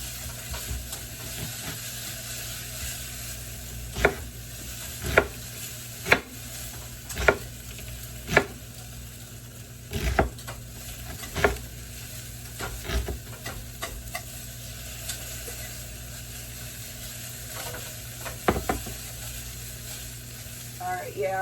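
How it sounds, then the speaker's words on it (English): Onions frying in a pot with a steady soft sizzle, stirred by a utensil that gives regular clinks and scrapes against the pot throughout, close and moderately loud. "Stirring that until our onions get tender."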